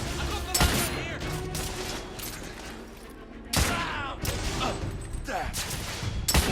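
Heavy gunfire in the video game The Order 1886: repeated loud shots and bursts crackle throughout a chaotic firefight, with voices shouting over the shooting.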